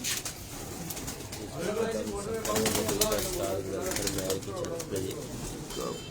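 Pigeons coo repeatedly on a rooftop after rain, a low rolling cooing rising and falling in overlapping calls at close range, with a voice talking over them.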